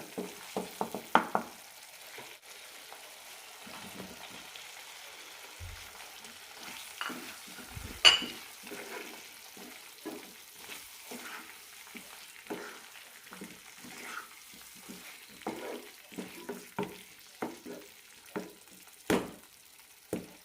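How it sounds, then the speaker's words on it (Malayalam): Sliced onions fry in a pan with masala and curd for an onion curd curry, giving a soft steady sizzle broken by repeated scraping stirs of a spoon against the pan, with a few sharper knocks along the way. "ഇനി ഇതിലേക്ക് സവാള ഇടാം"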